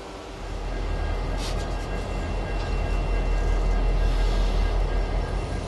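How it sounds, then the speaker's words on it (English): Norfolk Southern SD-40E helper diesel locomotives haul a train upgrade on the east slope between Altoona and Cresson, a steady loud rumble with low engine drone and rail noise holding throughout. "Along with the new SD-40Es working in the helper pool."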